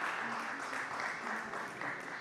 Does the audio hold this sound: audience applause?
yes